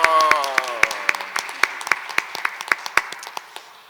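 Applause for a presenter at a Spanish-language talk on maieutics and children's dialogue: a burst of hand claps and sharp individual claps, thinning toward the end, with a brief voice at the start.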